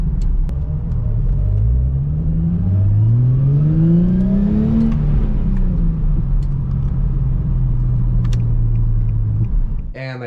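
A car drives down the street past a crowd at an Ocean Beach car meet, its loud engine rumbling close by and rising in pitch as it accelerates before settling into a steady drone, with faint voices underneath.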